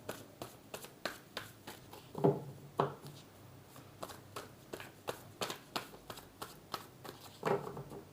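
Tarot cards being shuffled and drawn close up, a quick run of soft, crisp riffling slaps in an uneven rhythm, faint and alone in a quiet room.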